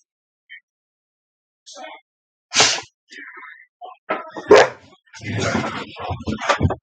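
Two dogs, one a young female in her first heat about fourteen months old, play-fight nearby with sporadic yips, a sharp sneeze-like snort and scuffling bursts, growing busier and rougher toward the end.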